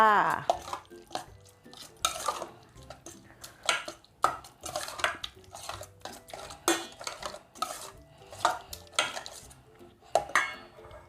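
Minced pork is tossed with utensils in a bowl while mixing an instant noodle seafood salad, producing close, irregular clinks, scrapes and stirring clatter of cutlery against the dish.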